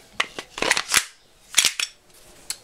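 WE G18C Gen4 airsoft pistol being handled, with a series of sharp metallic clicks and clacks as the slide locks back, several separate snaps spread over a couple of seconds, close and fairly loud with no talking.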